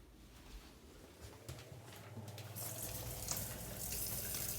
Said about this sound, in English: we're just going to stop for a quick second and go wash our hands.